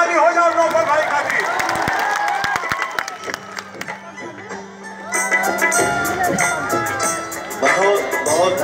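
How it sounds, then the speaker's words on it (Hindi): Applause and cheering for a man at a crowded Bhojpuri-speaking gathering, scattered claps building into a loud burst of crowd noise, with people speaking over it. "एक जोरदार ताली हो जाओ नौफल भाई का"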